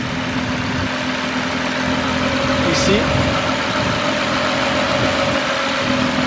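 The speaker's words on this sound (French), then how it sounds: "Donc voici le moteur, c'est le VR38." A Nissan GT-R's VR38 engine with aftermarket intakes, Y-pipe and cats, tuned to 650 hp, idles with a steady low rumble and a faint whine, while someone says a brief word over it.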